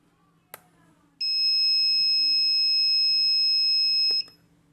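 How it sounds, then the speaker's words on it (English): An electronic buzzer wired to a Raspberry Pi Pico with an LED and push button sounds one loud, close, continuous beep lasting about three seconds, after a short click, over a faint background hum. "the buzzer starts beeping"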